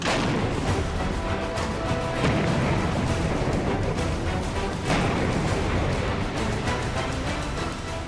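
Heavy artillery fire from a Swedish-made Bofors gun booms repeatedly, dense and loud, with blasts overlapping into a continuous roaring barrage.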